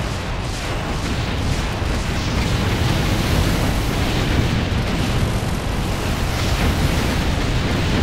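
Rocket launcher explosions in the shooter game Doom, played co-op with a brutal gore mod, merge into a dense, loud continuous roar of booming blasts and rumble that fills the whole stretch.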